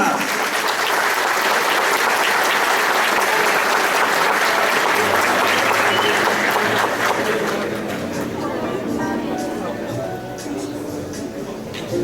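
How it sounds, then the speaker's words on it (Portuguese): Loud, sustained audience applause at a lecture on urban mobility legislation in Barueri, a dense crowd clapping as a speaker is invited to the stage, thinning slightly toward the end with some murmuring voices underneath. "Uma salva de palmas!"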